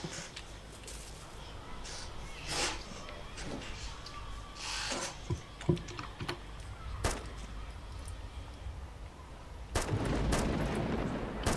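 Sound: gunfire in video game Namalsk Crisis

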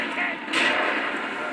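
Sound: gunfire in the video game Grand Theft Auto 4

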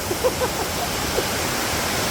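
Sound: Sangbay Falls waterfall in Pugo, La Union

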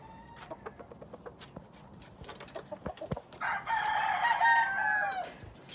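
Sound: clarete gamecock rooster crowing

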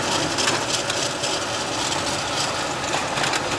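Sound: GAZ 3307 truck engine running

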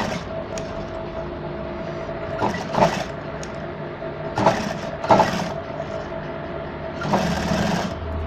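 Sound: sewing machine stitching a halter neck collar

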